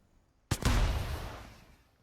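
A single heavy mortar round fired from a Royal Navy ship in a video game, one sharp loud blast followed by a long rumbling decay that fades out over about a second and a half.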